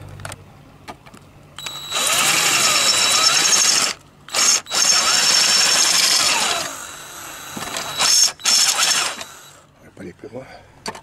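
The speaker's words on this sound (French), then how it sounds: "Je vais devoir percer pour retirer ce rail qui m'empêche." Power drill bores through a metal rail on a sailboat while changing the mainsail furler line, running in long loud bursts with brief pauses and a final shorter stretch, close to the listener.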